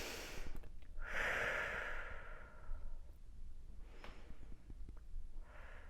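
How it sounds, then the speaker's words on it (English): Slow deep breathing, drawn in through the nose and let out through the mouth, in a preschool setting; a few soft, close breaths with long exhales and quiet gaps between them. "Take some deep breath into the nose, out through the mouth"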